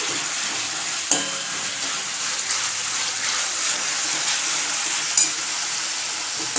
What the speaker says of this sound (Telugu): మంచిగా వేసుకొని కొంచెం ఇలా అన్నిటిని గోలించుకోవాలి